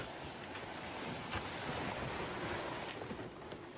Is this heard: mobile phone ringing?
no